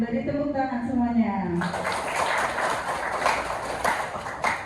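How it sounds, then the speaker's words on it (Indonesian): A class of students clapping their hands in a classroom, a dense burst of group clapping that starts abruptly after a short stretch of speech and continues steadily to the end. "Oke, beri tepuk tangan semuanya."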